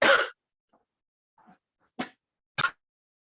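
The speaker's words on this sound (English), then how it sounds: "may have hit a coughing fit right in the middle" Someone with a cold coughs in a fit: one strong cough, then faint breaths, then two more sharp coughs spaced apart, close to the microphone.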